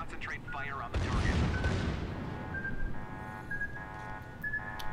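A Colorado battleship firing its main guns in the World of Warships game, a deep heavy boom rolling into a long rumble, followed by a quieter game soundscape with tonal alert beeps, and a voice speaking near the start.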